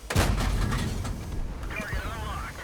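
A T37 American light tank fires its cannon in World of Tanks, a loud blast at the start with a rumbling tail under steady talk and engine noise.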